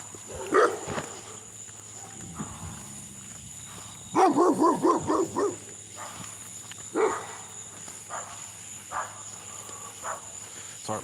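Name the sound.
dog barking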